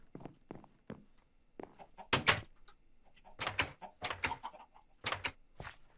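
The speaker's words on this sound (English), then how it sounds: "I hear someone opening a door" Several wooden clunks and thuds of doors being opened in Minecraft come in irregular bursts, some sharp and near, mixed with light footstep-like knocks and no talk.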